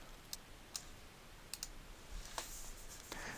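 A computer mouse clicks a handful of times while saving a text file, sharp isolated ticks spaced irregularly over quiet room tone with no talking.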